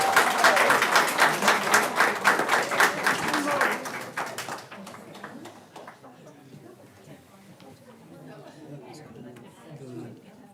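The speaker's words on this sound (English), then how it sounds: "Let's give them another round of applause." Audience applause at a Wilson County Schools board of education meeting, loud dense clapping for several seconds that fades into scattered claps and murmuring chatter.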